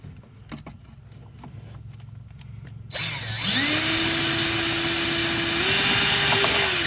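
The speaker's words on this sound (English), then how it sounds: "I'm going to drill out these other two holes." A power drill spins up after quiet tapping and runs steadily drilling holes for a boat battery charger install, with a loud, high whine that shifts pitch slightly partway through.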